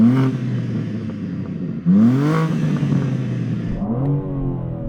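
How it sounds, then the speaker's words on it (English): A stationary BMW M4 engine revs, heard from inside the car, with rising and falling pitch sweeps through repeated throttle blips, loud and close. "Now I'm revving it in car,"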